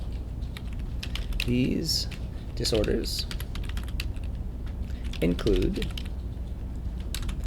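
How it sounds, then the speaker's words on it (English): Someone types on a computer keyboard, producing a steady run of quick, close clicks while a person talks over it. "we're ready to type in more text"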